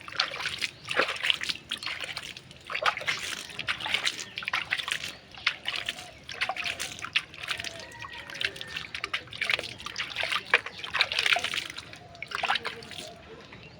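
Liquid splashes and trickles onto the soil around a planted eggplant, a run of close, uneven drips and splatters with soft sloshing throughout.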